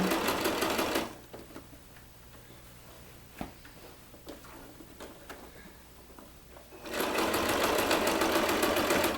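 A sewing machine stitching the cuff of a Christmas stocking, a soft steady run of rapid ticking in the middle, framed by louder bursts of dense noise before and after.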